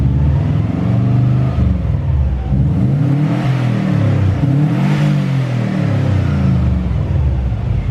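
Subaru engine being tuned with a Link ECU revs up and down repeatedly, a close, loud rumbling roar that rises and falls in several swells over a steady idle, no one talking.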